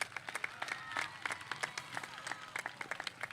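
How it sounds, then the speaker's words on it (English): Audience applause at a high school graduation ceremony: many hands clapping continuously in a hall, dense and steady with scattered sharper claps, fairly close and loud throughout. "Give her a round of applause one more time."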